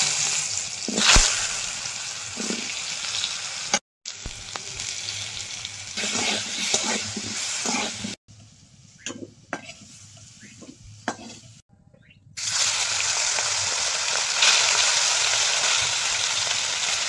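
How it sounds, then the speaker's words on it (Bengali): Bori lentil dumplings frying in hot oil, a loud continuous sizzle with stirring scrapes that cuts off briefly a few times and returns at full strength. "বড়িটা আগে ভেজে নেব।"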